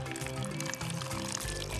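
Water squeezed out of a soaked kitchen sponge, pouring and splashing in a steady stream that briefly breaks and resumes, close and fairly loud, with no talking.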